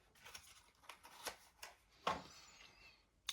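Lenormand cards being shuffled for a card reading, a series of soft, quick riffling and sliding snaps at irregular intervals, close and quiet.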